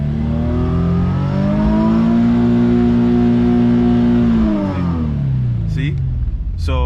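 A built Infiniti G37S VQ engine revs while the car is parked, its tone rising and holding at a high, loud, close wail before dropping back, and a voice speaks as the revs fall.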